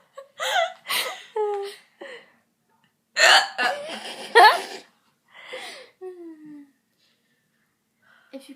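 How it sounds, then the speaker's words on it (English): A best friend with the hiccups makes several sharp, squeaky hiccups spaced across a few seconds, close to the microphone, mixed with bursts of nearby talk and laughter. "If you can hiccup one more time"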